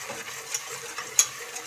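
A spoon scrapes and swirls through a thick flour roux for béchamel in a pan over low heat, soft rhythmic stirring with faint clicks and a light sizzle underneath.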